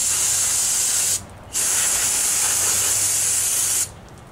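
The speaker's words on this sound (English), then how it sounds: "we're going to take some carb cleaner and spray this right here off" An aerosol can of carb cleaner sprays onto an air compressor converted from a car AC compressor, in two long, loud hissing bursts, the first briefly paused after about a second, then the spray cuts off.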